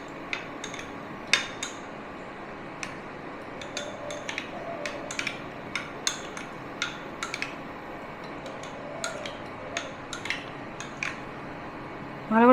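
Ragi cheela batter being mixed with salt in a bowl: light clinks and taps of a spoon against the bowl in an irregular rhythm, close and fairly quiet, with no talking.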